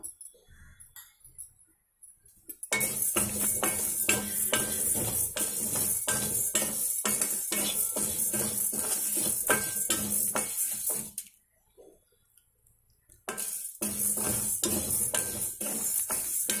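Toor dal and chana dal roasting in a pan give a close, steady rattling hiss dotted with ticking clicks. It stops briefly, then resumes.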